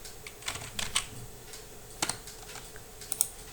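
Keys clatter on a computer keyboard while typing into an HTML form input, a few quick irregular bursts of clicks with pauses between, close and fairly quiet.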